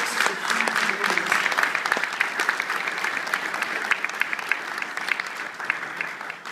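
A congregation applauds a newly baptized man in church, sustained dense clapping with scattered sharp claps and faint voices underneath, steady and fairly loud throughout.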